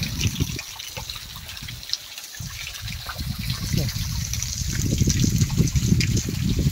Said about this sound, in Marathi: कड्यावरून आलेलं पाणी